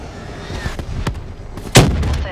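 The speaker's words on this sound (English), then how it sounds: "Hostile Hellstorm inbound." Hellstorm missile strike explosions in Call of Duty: Black Ops 3, a few booming blasts amid battle noise, with one loud near impact late in the moment.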